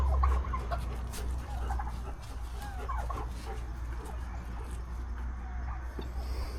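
Hens and young chickens in a coop make faint, scattered clucks and chirps over a low steady hum, with no one talking.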